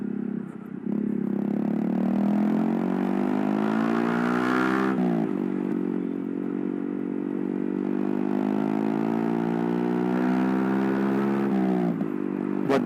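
A Kawasaki D'Tracker 150 motorcycle engine revs while being ridden, a loud, close, buzzing single-cylinder drone that climbs in pitch, drops briefly around the middle, then rises again and holds steady before easing off.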